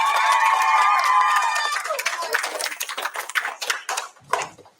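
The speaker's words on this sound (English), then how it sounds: "Let's give you a round of applause" A small group at a charity podcast marathon claps, starting over a sustained tonal sound that fades, then breaking into scattered, uneven claps that trail off.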